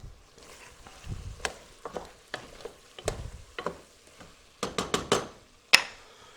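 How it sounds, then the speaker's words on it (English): Seasoned vegetables rubbed with venison spice are stirred in a stew pot, giving a series of close scraping, clinking strokes with soft sizzling between them, irregular and moderately loud. "Let me give that a stir."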